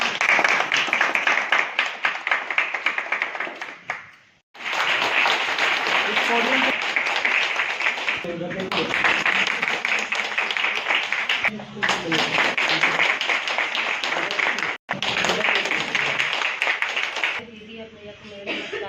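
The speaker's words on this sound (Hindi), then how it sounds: "और जोर से बजाइए ताली।" An audience at a public gathering in Bihar claps and applauds loudly in long sustained waves, broken by two brief gaps, with voices mixed into the crowd noise.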